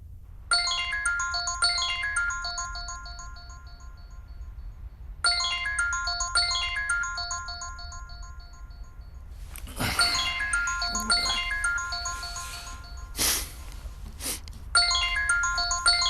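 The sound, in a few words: phone ringtone, incoming call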